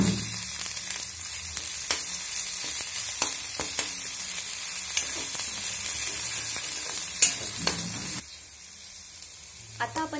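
Ginger garlic paste sizzles steadily in a hot pan for a vegetable dish of cluster figs, with a continuous close frying hiss broken by occasional stirring clinks and a quieter stretch near the end.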